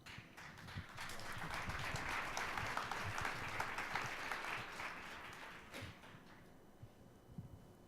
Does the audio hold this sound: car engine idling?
no